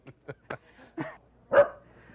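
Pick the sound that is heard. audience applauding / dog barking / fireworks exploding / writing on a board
dog barking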